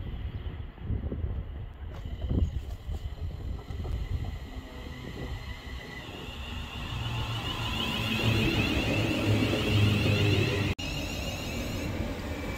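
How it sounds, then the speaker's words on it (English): A train pulls into a platform at a London station on the line to Euston, its low rumble and wheel noise building steadily beneath wind and ambient station sounds, with a brief sharp click near the end. "That's the train."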